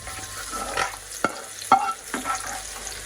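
Fried onions for an eggplant dish are scraped and stirred out of a pan with a spatula, giving soft sizzling under several sharp scraping and tapping strokes, without voices.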